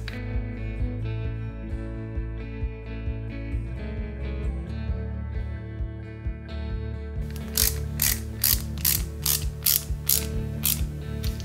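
Small screws driven into an Alpine A110 1600S 1/8-scale model kit give a close, rapid run of sharp ratcheting clicks in the second half, after quieter handling and tinkering at the start.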